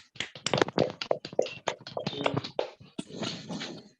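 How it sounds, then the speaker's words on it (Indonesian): Students in a classroom clap for the group presentations, a close, uneven burst of individual claps and taps from a small group with no talking. "Jadi tepuk tangan buat kalian semuanya, presentasinya bagus-bagus."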